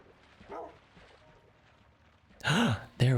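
A Minecraft-style video game dog gives a couple of short whining yelps near the end after quiet stretches, preceded by a faint sigh-like whimper.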